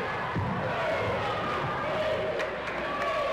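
A high school basketball crowd cheers in a gym, a steady, dense roar of voices that fills the whole stretch, with faint squeaks and bounces underneath and no single voice standing out.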